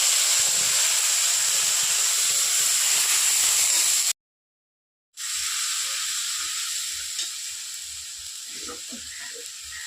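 Ground spice paste fries in hot oil in a kadai with bay leaf and cumin for a fish and green pea dish, giving a loud, steady close-up sizzle that cuts out for about a second, then resumes slightly softer.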